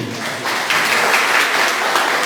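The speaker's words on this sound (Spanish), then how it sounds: "Un aplauso para el niño." Audience applause for a child at a church Bible talk, steady dense clapping filling the short moment with no voices over it.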